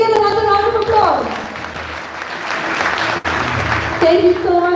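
An audience applauds after a dance performance, with a burst of clapping that fills the middle of the stretch. Music plays before and after the clapping, and a voice speaks over it.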